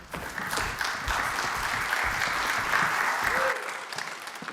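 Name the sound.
conference audience applause for speakers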